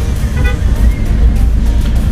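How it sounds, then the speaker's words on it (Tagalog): Heavy road traffic in the Philippines, with close, loud, continuous engine rumble and tyre noise from packed vehicles, a few faint horn-like tones rising briefly over the din, and no talking. "Yan, medyo traffic din yung area na to."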